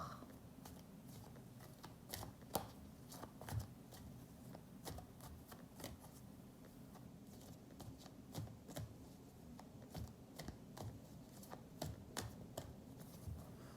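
Close, faint tarot cards are shuffled by hand, producing repeated quick riffling flicks and soft slaps in an irregular rhythm, with no talking.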